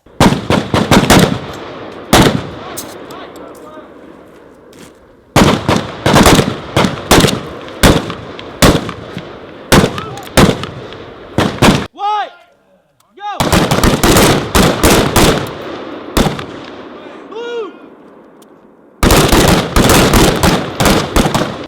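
Several M4 rifles firing 5.56 rounds during a team live-fire drill produce loud, close, rapid overlapping cracks in long dense bursts, broken by a brief pause around the middle and another short lull before firing resumes.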